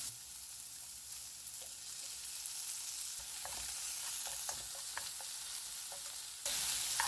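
Onions frying in oil in a pan for a simple shrimp rice bowl, a faint steady hiss of sizzling with scattered soft stirring taps that grow a little busier toward the end, no speech.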